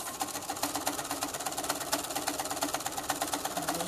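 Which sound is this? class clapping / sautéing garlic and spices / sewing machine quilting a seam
sewing machine quilting a seam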